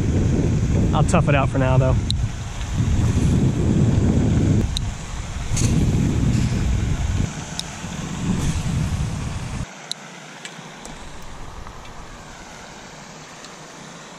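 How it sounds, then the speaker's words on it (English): Strong wind buffeting the microphone on a lake during a bass fishing outing, a loud rumbling roar for most of the clip that drops off near the end, with a person speaking briefly. "And the wind has picked up a decent amount."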